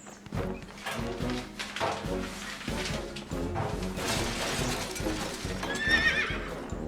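A horse neighs in a DVD menu game, the whinny rising clearly near the end over a busy, steady musical background.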